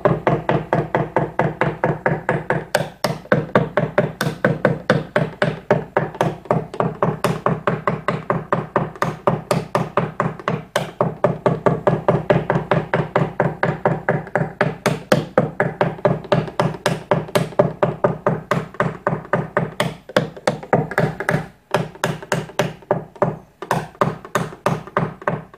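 Something being driven in with steady, rapid hammer blows, dozens of evenly spaced knocks repeating close and loud with brief pauses between runs.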